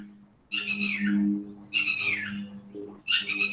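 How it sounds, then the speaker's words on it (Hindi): Birds outside a window, picked up by a microphone, give three loud, close bursts of high chirping and warbling calls, separated by short pauses, over a low steady hum. "मैम आपका माइक में चिड़िया की आवाज आ रही बहुत बुरी तरीके से"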